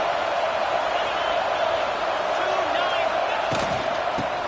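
A big college football stadium crowd roars during an Ohio State–Clemson game near the goal line, a loud, sustained wall of cheering with a couple of sharp thuds near the end.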